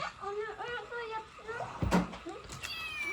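A pet cat meows indoors at home, several soft, drawn-out mews close by, while people talk over it and something knocks briefly partway through.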